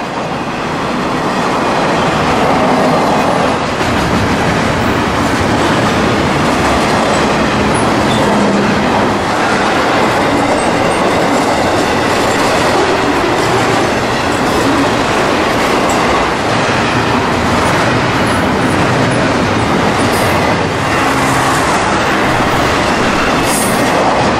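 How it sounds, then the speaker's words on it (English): An intermodal freight train out of Inman Yard in Atlanta rolls past close by. Its loud, continuous roar carries rhythmic clickety-clack and some wheel squeal throughout, with no voices. "intermodal traffic for FEC out of Inman Yard in Atlanta"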